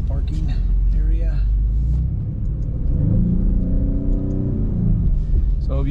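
A 2024 Maserati GranTurismo Trofeo's 3.0-liter V6 engine is pulling out of a parking area, a loud steady rumble that rises in pitch as it revs, with people talking over it inside the car.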